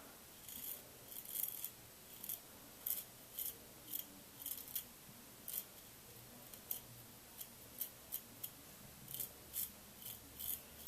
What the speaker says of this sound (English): even as I continually glide the razor, you can still hear a lot of hair getting cut off